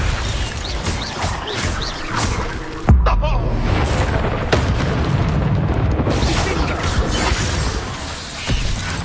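Confringo explosive spell in a PS4 video game, a sharp booming blast that hits hard and then rumbles on amid a loud, busy mix of clattering effects and a voice, with a smaller pop near the end.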